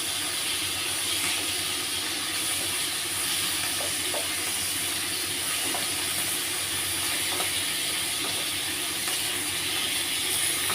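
Prawns fry lightly in a pan for a malai curry, giving a steady, even hiss and sizzle that stays constant throughout with only faint clicks, no voices.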